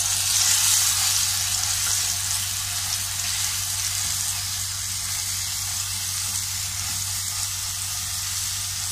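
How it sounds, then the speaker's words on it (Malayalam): Ground spice paste frying in coconut oil in a pan for potato mezhukkupuratti, a steady dense sizzle and crackle that runs on evenly, close and loud with no voices. "വെളിച്ചെണ്ണ ഒഴിച്ച് അതിലേക്ക് നമ്മൾ അരച്ചു വച്ചിരിക്കുന്ന മിശ്രിതം നമുക്ക് ഇട്ട് മൂപ്പിച്ചു കൊടുക്കാം."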